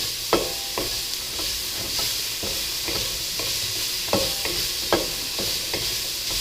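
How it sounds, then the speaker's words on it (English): Chicken fried rice stir-fried in bacon grease in a stainless steel wok: a continuous close sizzle broken by regular scraping and tossing strokes of the spatula. "You can watch this getting stir-fried in here."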